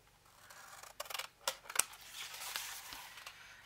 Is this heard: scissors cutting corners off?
yes